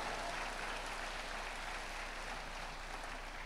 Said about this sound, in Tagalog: Yung malakas pumalakpak